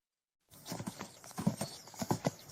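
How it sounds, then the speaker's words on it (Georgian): Horse hooves clip-clop in an irregular trotting rhythm, close and fairly loud, with a brief neigh mixed in and no talking. "ცხენი"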